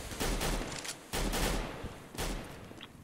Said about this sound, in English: Frost with the auto sniper will take down Pasha